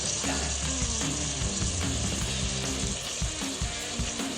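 Finely chopped big onions fry in a pan for mint peas pulao, giving a loud, steady, dense sizzle with small crackles and stirring scrapes throughout, close up.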